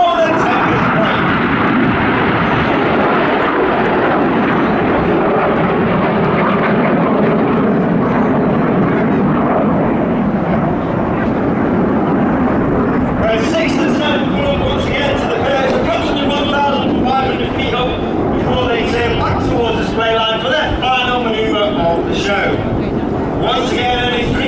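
Red Arrows jet aircraft flying a low display at an RAF air festival roar loudly and continuously overhead, the steady blast later breaking into rougher, pulsing bursts as the formation passes close above the airfield.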